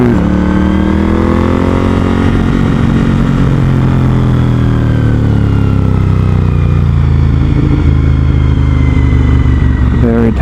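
A Suzuki SV1000S V-twin motorcycle on a tight, winding highway with hairpin bends, its engine loud and close as revs swell and ease through the corners, with steady wind rush over the throbbing exhaust note.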